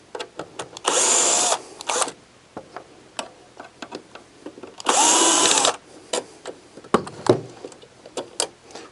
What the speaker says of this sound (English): a Phillips head screwdriver or drill bit.